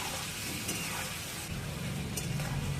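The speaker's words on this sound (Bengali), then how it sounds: "এগুলো একটু ওর সঙ্গে ভেজে দিচ্ছি" Boiled bottle gourd and potato fry in oil, giving a dense, continuous close sizzle with soft stirring rustle throughout, no voices.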